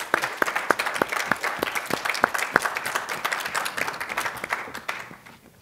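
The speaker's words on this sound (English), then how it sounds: "Let's have some applause after each speaker." Audience applause for a speaker at a panel event, a modest group clapping with distinct, sharp individual hand claps that gradually thin out and fade to near silence at the end.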